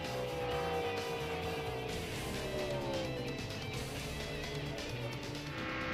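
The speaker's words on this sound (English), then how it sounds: "Truck still on the racetrack." NASCAR Camping World Truck Series trucks during final practice at Michigan: a continuous distant engine drone with a shifting pitch, like a truck circling the track, steady and fairly faint throughout.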